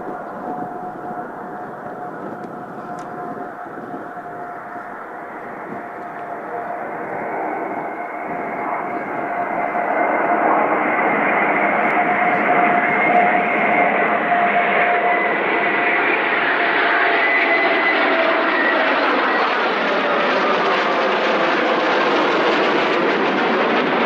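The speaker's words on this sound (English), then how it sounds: "we suddenly saw approaching this absolutely brilliant fly past" A fly-past of aircraft over an airfield: a broad engine roar swells steadily over about ten seconds, then holds loud and continuous as the aircraft pass overhead, with no voices.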